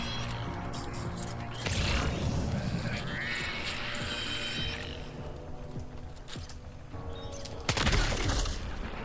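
Gunfire in the video game Death Stranding 2 rings out in a dense burst amid busy game sound effects, with a second sharp crack near the end and a voice talking underneath.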